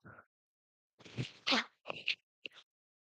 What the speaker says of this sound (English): I just sneezed, holy shit.